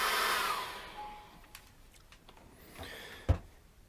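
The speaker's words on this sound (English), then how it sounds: "Let me just dry that off with a hairdryer now." A hair dryer blows on acrylic paint for a seascape painting, a loud rushing whir at the start that cuts off within a second, followed by quiet room tone with a few faint clicks and a soft knock.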